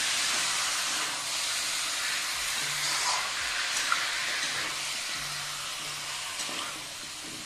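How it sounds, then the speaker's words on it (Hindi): Chicken sizzles and fries in a pan for curry, a steady close hiss of hot oil that continues throughout with faint stirring clicks and no talk. "पाँच मिनट तक थोड़ी देर तक भूनेंगे।"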